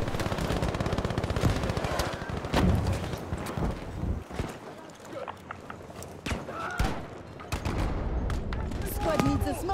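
Rapid gunfire crackles through a Battlefield 5 firefight, dense bursts and single shots repeating across the whole stretch, loud and close, with game sound effects layered in and players talking over the action.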